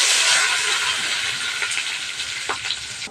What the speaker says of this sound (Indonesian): Kita goreng sambal terlebih dahulu